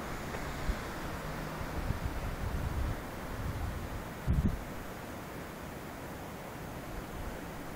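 Steady, strong wind rushes past outdoors around sunrise in Austin, Texas, as a constant hiss and roar, with one brief low thump near the middle.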